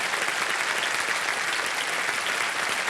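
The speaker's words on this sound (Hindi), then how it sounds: "ताली बज जाए इनके लिए।" A studio audience at a televised quiz show claps steadily, a dense and loud burst of applause that fills the whole stretch with no voices over it.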